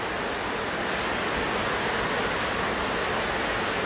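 Heavy rain falls at an outdoor cattle market in a dense, unbroken roar of hiss that stays loud and even from start to finish.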